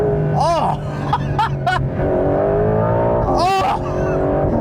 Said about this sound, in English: It just wants to keep revving and revving, and I could just listen to this engine in that perfect PDK all day long.